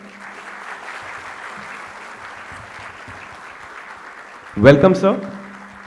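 Loud audience applause breaks out near the end to welcome the chief guest at a Defence Estates Day lecture, after a stretch of quieter room noise; someone briefly speaks a greeting.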